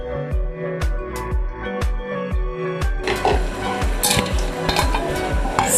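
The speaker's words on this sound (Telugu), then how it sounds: "ఇది బాగా మిక్స్ చేసుకుందాము" Gravy with green chillies and salt is mixed in a pan, with a steady run of rhythmic scraping spoon strokes that give way to a loud, continuous sizzle and clatter.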